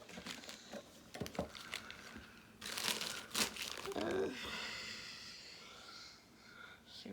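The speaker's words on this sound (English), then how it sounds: "Miracle's chewing up boxes." A pet named Miracle chewing up cardboard boxes makes scattered crinkling, tearing and crunching bursts, close by, with a few louder rips in the middle and soft rustling throughout.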